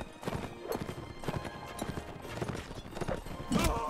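Horse hooves clip-clop in a steady, close rhythm in the video game Mount & Blade Warsword Conquest, with a brief neigh-like sound near the end.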